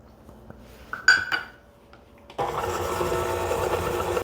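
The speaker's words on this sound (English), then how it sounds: "we're going to mix this peanut butter in with the other ingredients." Peanut butter is mixed with butter and sugars. Clinks and a clatter from the bowl come first, then an electric mixer starts and runs at a steady whir to the end.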